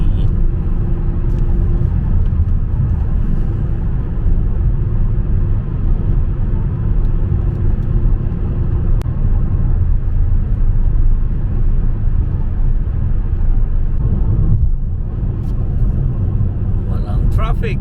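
Steady low road rumble and tyre roar from inside a car cruising on a UK motorway, continuous and even throughout, with a brief dip in the noise partway through.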